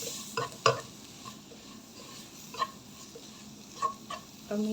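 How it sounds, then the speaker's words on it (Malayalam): Fish curry with kudam puli (tamarind) being stirred in a pan, giving soft scraping and sizzling strokes at irregular intervals, fairly quiet and close, with no voices. "പുളി ഇട്ട് കൊടുക്കാം നന്നായിട്ട് ഇളക്കി കൊടുക്കാം"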